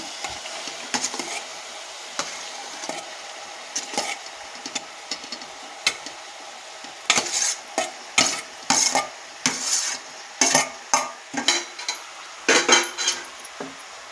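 Ridge gourd pieces are stirred into a fish curry in a pan, a spoon scraping and clanking in repeated strokes over a soft sizzle, sparse at first then quickening into a regular rhythm, close up.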